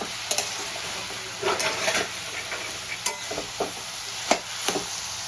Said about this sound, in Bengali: এই সময় ভালো করে আলু দিয়েও কষিয়ে নেব।